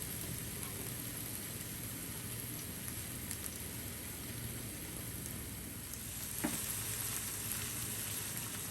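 Green chillies fry with chopped onions in oil in a frying pan, giving a continuous close sizzle with a brief clatter of stirring partway through; nobody talks.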